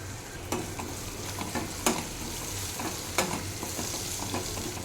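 Ginger garlic paste, turmeric and green chillies frying in oil, a bright continuous sizzle with occasional spoon clacks and stirring scrapes, close and without speech.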